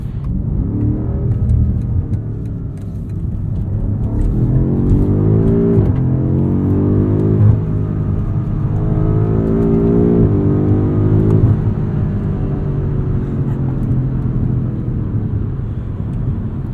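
A 2021 BMW M5 Competition sedan engine pulls hard while driving, with steady loud engine drone, rising revs and several upshift steps across the run, alone with no talk.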